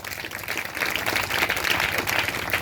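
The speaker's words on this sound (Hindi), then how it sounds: "सुनो, पहले ताली बजाओ जोरदार।" A congregation at a New Year spiritual revival meeting claps loudly on request, a dense, vigorous burst of many hands that builds slightly and stays steady for a few seconds, with no voices over it.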